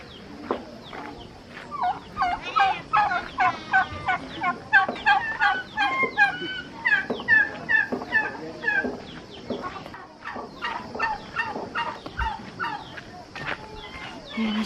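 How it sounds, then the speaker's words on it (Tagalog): Turkeys gobble repeatedly in a mountain village in Occidental Mindoro, the calls loud and close with clucking fowl mixed in, other livestock nearby and outdoor ambience beneath. "Oh, may mga pabo."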